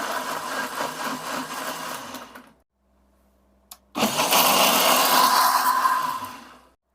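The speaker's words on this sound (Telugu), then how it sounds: "మనం ఈ విధంగా మిక్సీ పట్టుకుంటే సరిపోతుంది." A mixer grinder blends guava for juice with two loud, steady whirring runs, the first about two and a half seconds, then a short pause and a click before a second, slightly louder spin that winds down. No voices.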